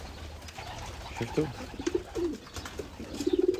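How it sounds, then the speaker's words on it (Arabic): Farm pigeons coo in low, rolling repeated calls at close range amid general farmyard noise, with someone speaking Arabic over the birds. "حمام مزرعة، تغذية مزرعة، طيور مزرعة"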